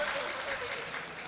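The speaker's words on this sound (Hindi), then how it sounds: "लेकिन तालियां आप सलीके से नहीं बजा रहे" Applause rises from an audience at a mushaira poetry gathering in Nuh Mewat, a continuous bright patter of many hands, with a faint voice gliding above it.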